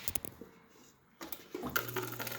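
Water flowing into a GE refrigerator after its water inlet valve was replaced, a soft running hiss that starts faint and swells after about a second, with a steady low hum beneath and small clunks.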